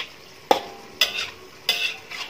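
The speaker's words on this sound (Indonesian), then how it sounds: "pagi ini aku lagi masak ini oseng tauge kecambah, ditambahin orak-arik telur buat sarapan pagi" Bean sprouts and scrambled egg are stir-fried in a pan, three sharp scraping strokes of a utensil over a soft background sizzle, close and clear.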